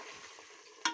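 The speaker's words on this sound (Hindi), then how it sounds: "तो मेरे ये आलू भुन रहे हैं और इनमें मैंने टमाटर डाल दिए हैं" Potatoes fry in a pan with tomatoes added, giving a steady close sizzle and crackle, with a sharper clatter of stirring near the end.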